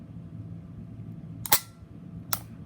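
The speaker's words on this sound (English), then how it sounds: "So let's do a quick trigger pull comparison." Double-action dry-fire trigger pulls on an S2 competition pistol: two sharp metallic clicks about a second apart against a quiet room, with no talking.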